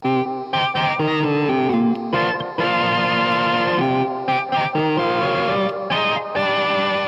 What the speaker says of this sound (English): you would get this by running the sound through a crunch pedal that sounds like this